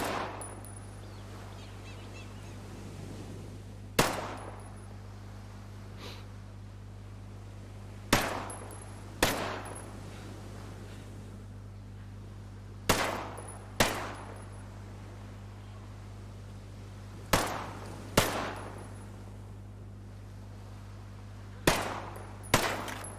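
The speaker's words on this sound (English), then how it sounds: "we'll do 10 rounds as aimed as well as we can without the silencer" In Ghost Recon Breakpoint, a P320 pistol fires about ten unsuppressed aimed shots, each a sharp separate crack with a short tail. They come at uneven intervals over a steady low in-game hum, with no talking.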